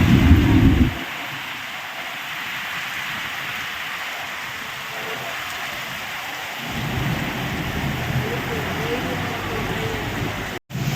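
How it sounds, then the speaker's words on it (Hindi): Heavy rain pours down during a windy thunderstorm in Bihar, a dense steady hiss of rainfall with a rumble of thunder at the start; a voice is faintly present beneath the downpour. "आंधी के साथ साथ बहुत ही ज़बरदस्त बारिश हो रहा है"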